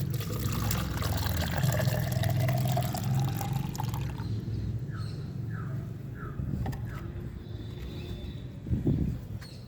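Liquid organic fertilizer, a homemade aloe vera brew, is poured into a garden tub, a steady watery pouring and trickling in the first part that gives way to softer drips with outdoor birdsong.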